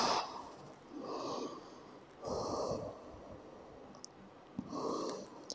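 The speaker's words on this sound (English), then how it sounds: "Five deep breaths." Slow deep breaths during a yoga pose, several close soft inhales and exhales in a loose rhythm, with faint clicks between them.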